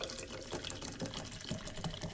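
Carbonated water from Safeway poured into a strawberry creme fiber-and-greens drink, a steady close fizzing splash running throughout with no talk.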